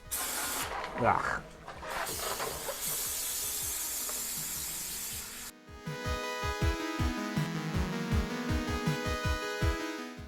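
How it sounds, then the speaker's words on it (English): Brake cleaner hisses in a long steady spray onto the transmission pan of a 1934 Dodge Custom with a Mopar 440, fairly loud and close, then gives way to rhythmic thumping and a brief grunt. "we're going to spray it down with brake clean to clean it all out"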